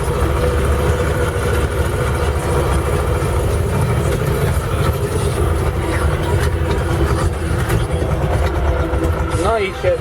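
A loud, steady tractor diesel engine drones throughout with a deep low rumble while pulling a cultivator in a field, while a person talks over it.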